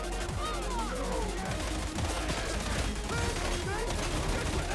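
Rapid automatic gunfire from a Hive Scum build in the video game Darktide, a dense, loud, continuous barrage of shots with crashing impacts that fills the whole stretch without a break.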